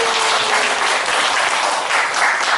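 An audience at a humanities book concert claps loudly and steadily for a few seconds, a dense, even applause with no talking over it.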